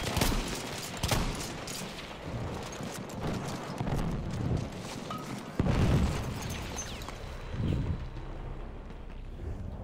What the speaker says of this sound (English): That exploded as soon as it hit the ground next to me. It was an anti-tank grenade.